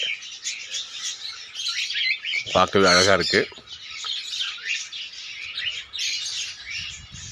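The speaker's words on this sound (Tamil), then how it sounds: "இங்கே பறவைகள் லவ் பேர்ட்ஸ் அது மற்றும் நிறைய பறவைகள் இங்கே வச்சு பாதுகாக்கிறாங்க" Lovebirds and many other birds chirp and twitter steadily throughout an aviary in Puducherry, a dense, busy chorus, with someone speaking briefly in the middle.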